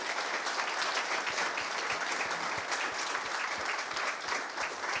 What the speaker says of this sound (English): He got a better round of applause than any of us